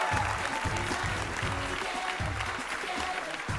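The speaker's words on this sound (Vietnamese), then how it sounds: "hãy dành tràng pháo tay thật nồng nhiệt để chào đón top 12 của bước nhảy ngàn cân" A studio audience at a televised dance competition applauds warmly and continuously over a thumping, rhythmic music beat.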